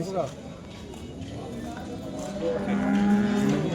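At a busy cattle market in Modnimb, cows moo in a low, drawn-out call that grows in the second half, amid a constant crowd murmur and nearby talk.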